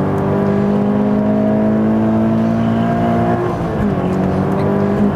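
A Scion FR-S with a 2-liter flat-four and 6-speed manual pulls hard on a race track, its engine a loud, steady droning hum heard from inside, with a brief dip like a gear change before pulling again.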